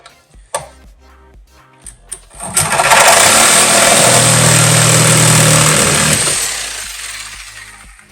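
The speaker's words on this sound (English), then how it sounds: "I just cut it with a sawzall." A sawzall cuts through threaded rod in one sustained burst of loud, harsh buzzing and rasping lasting about three seconds, preceded by a few scattered clicks and knocks and then tapering off.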